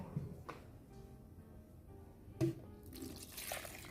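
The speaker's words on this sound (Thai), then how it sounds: "ใส่น้ำลงไป เพื่อให้เขาปั่นง่ายๆนะคะ" Water is poured into a blender jar over tuna and other ingredients for a Thai curry sauce, a faint liquid splash and trickle with a brief clunk, quiet and close with no talk.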